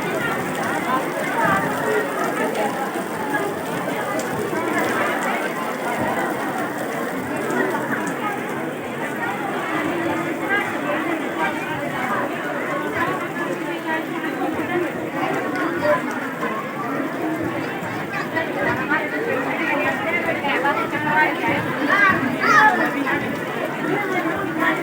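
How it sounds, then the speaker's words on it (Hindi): Heavy rain pours steadily over an outdoor village fair, a dense continuous hiss across the whole stretch, with crowd chatter and voices running underneath throughout. "बहुत ज़्यादा बारिश हो रही है।"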